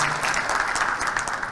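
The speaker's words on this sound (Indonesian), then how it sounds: "Tepuk tangan saudaraku ya." An audience at a Hanura party assembly in Jakarta claps steadily, a loud, even burst of many hands applauding that holds for the whole moment and tapers slightly at the end.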